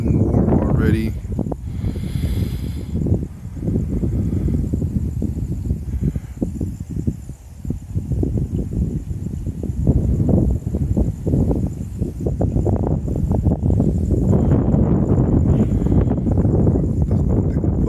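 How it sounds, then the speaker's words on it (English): Continuous buffeting wind noise hitting the microphone in a park, rough and rumbling throughout, with gusts rising and falling. "Now it's kind of windy"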